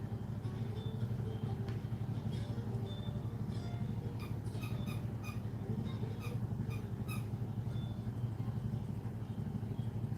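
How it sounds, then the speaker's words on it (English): A dog named Willow squeaks her new squeaky toy in the background, several short bright squeaks in bursts amid a constant low rumbling hum, fairly faint and with no talking. "I can hear Willow squeaking her new toy in the background."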